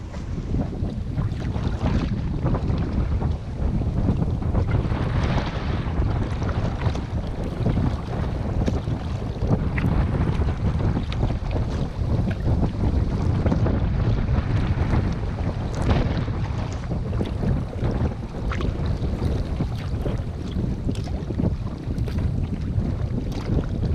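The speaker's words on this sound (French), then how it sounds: "Il y a le vent, plus les bateaux." Strong wind buffeting the microphone on the Danube near Vienna, seen from a kayak, with a continuous heavy rumble and water wash from passing boats, and no voices.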